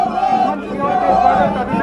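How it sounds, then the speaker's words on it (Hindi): A large crowd gathers to welcome a political rally procession in Ratangarh. A dense, steady hubbub of many voices fills the space, with a voice speaking over it. "और ये देखिए किस तरह से भारी भीड़ यहाँ पर मौजूद है।"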